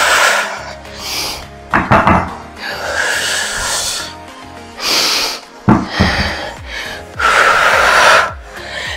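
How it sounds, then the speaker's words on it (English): Heavy, forceful breathing during a barbell workout, sharp loud exhales and gasping inhales in repeated bursts over steady background music, close and prominent. "So you hear me, I'm breathing up the entire movement."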